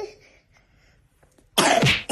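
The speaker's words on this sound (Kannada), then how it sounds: "ನೋಡ್ ನೋಡ್ ಕೆಮ್ಮ ಕೆಮ್ಮ ಇನ್ನು ಚೆನ್ನಾಗಿ ಕೆಮ್ಮು." A child coughs and sputters hard at close range, a burst of rough, forceful coughing after a quieter stretch, while being coaxed to take syrup medicine.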